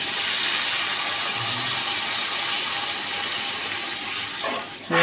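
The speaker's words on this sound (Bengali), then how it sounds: "এতে আমি জল দিয়ে দিলাম।" Water poured into a pan of fried onions for cooking potatoes, giving a steady close hiss and rush of liquid that fades near the end.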